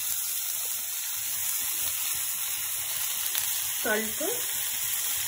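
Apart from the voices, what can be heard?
frying semiya upma on medium flame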